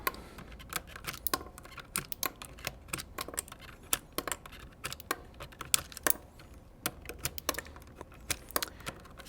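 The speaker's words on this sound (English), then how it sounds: "Let's get all these switches off." Keyswitches being pried out of a KC84 mechanical keyboard, a quick run of sharp plastic clicks and snaps in irregular bursts, close up with no talking.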